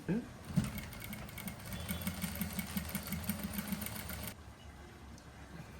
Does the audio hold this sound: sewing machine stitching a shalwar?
yes